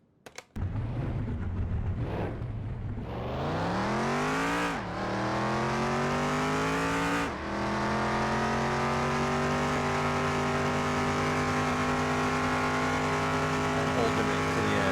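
A 1,000-horsepower Jeep Grand Cherokee SRT8 in Car Mechanic Simulator 2021 roars on a speed track, its loud engine note climbing steeply through several upshifts, then holding a steady high-revving drone.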